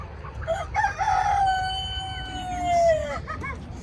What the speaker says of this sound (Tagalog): What kind of chickens?